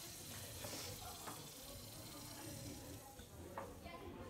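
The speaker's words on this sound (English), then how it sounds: "just by adding a metal, lithium, into the water, you can see the reaction where it gives off the hydrogen gas" Lithium metal fizzes and reacts in water, giving off hydrogen gas with a steady soft sizzling hiss, faint and continuous with small pops.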